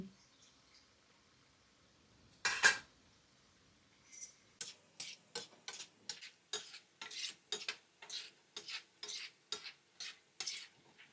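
Small punugulu fritters made from dosa batter frying in hot oil, heard as a burst of noise followed by a rapid series of regular scraping and sizzling strokes, close and fairly quiet.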